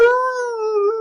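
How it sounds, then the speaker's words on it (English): A dog howls in one sustained, clear, tonal note lasting about a second, close by and loud, with a slight waver in pitch near the end and no talking. "when you hear Raven howl, that's Andrew's cue that he's here."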